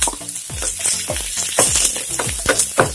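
Garlic and ginger fry in hot oil for prawn masala, a steady loud sizzle broken by repeated stirring scrapes and spatula clinks, close up with no voices.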